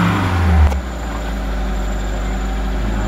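A Kia Visto engine with a faulty idle speed control is revved once, the loud rise cutting off sharply before settling into a steady, high idle drone. No one speaks.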